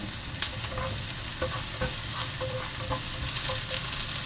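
Garlic frying after onion in a home kitchen pan, a dense close sizzle with repeated scraping stirs of a utensil against the pan.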